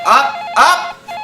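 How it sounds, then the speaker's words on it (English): An R2-D2 novelty telephone rings with two loud chirping electronic bursts, each a warbling beep, close and clear with a short gap between them. "It's the R2-D2 phone! Got a call coming in."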